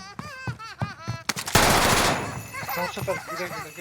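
Burst of automatic gunfire from an STG-44 in Warzone, loud and dense for about half a second, with people talking excitedly before and after it.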